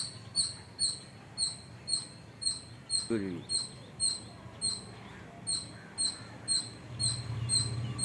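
A squirrel at a house gives a long run of rhythmic, high chattering chirps that repeat evenly throughout, with a brief low thump partway through and a low rumble toward the end.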